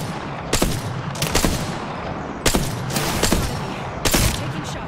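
Gunfire in the battle royale game Apex Legends, likely from a Flatline rifle, comes as four or five sharp, loud bursts spaced about a second apart, each ending in a short, ringing tail.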